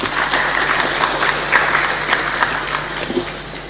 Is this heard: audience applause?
yes